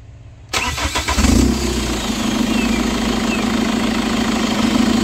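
Chevrolet Captiva diesel engine with the exhaust removed cranks over and fires, then settles into a loud, steady, rough idle close by with a constant low drone and no talk.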